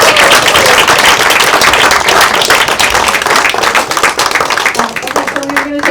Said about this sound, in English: So I just want to say, like, really a big applause to you,